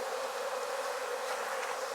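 Honey bees buzz steadily around an open hive during fall hive reductions in Jacksonville, Florida, a dense continuous hum of many insects close by with no voices.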